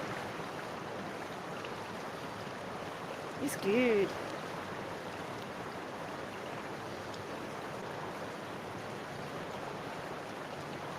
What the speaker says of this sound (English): That is a raging waterfall